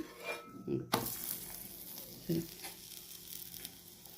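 Methi paratha roasting in ghee on a pan: a soft, quiet sizzle broken by a few sharp clinks and scrapes of a spatula against the metal.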